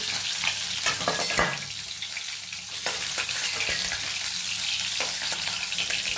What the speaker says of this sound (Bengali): মাছের আরেক পিসটা ভাজা হয়ে গেছে